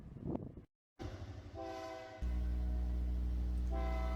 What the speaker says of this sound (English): Iowa Interstate numbers 707 and 711 shove empty hoppers into the customer's siding.